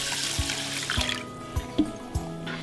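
Two cups of water pour into a pan of rice, a close splashing rush with a few soft clinks of the pan underneath, no talk.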